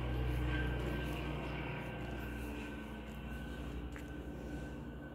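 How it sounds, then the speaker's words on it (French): An airplane circling overhead makes a steady, low propeller-like drone that stays constant and fairly distant for the whole stretch, with no talking. "un avion tourne au-dessus de ma tête"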